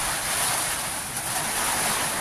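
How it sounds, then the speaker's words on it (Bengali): Strong wind roaring steadily through a window as a dense, broadband rush, loud and close with a gusty, buffeting quality throughout. "জানালাতে বাতাস ঢুকছে"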